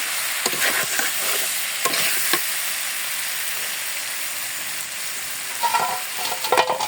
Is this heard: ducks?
no